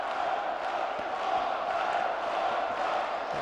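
Boxing crowd at a heavyweight team semi-final between Baku Fires and Paris United, a steady dense roar of cheering and shouting filling the arena without letup, broad and continuous rather than distinct clapping.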